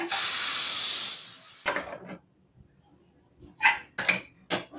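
A pressure cooker that has just finished cooking mutton releases steam in a loud, steady hiss for about a second and a half. The hiss then cuts off, and a few short, clattering bursts follow.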